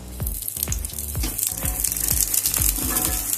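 Puran poli cooks in ghee on a hot pan, giving a steady bright sizzle, with soft rhythmic knocks repeating under it throughout.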